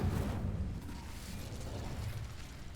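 An Incendio fire spell bursts in the video game Hogwarts Legacy, giving a broad whooshing, crackling blast that starts strong, dips slightly, then rolls on as a steady fiery rumble.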